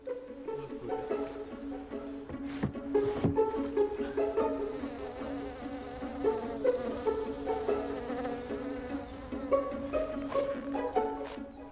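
Bees buzz around hives set among fruit trees in a spring orchard, with a steady, dense insect drone and passing individual buzzes close by that last throughout.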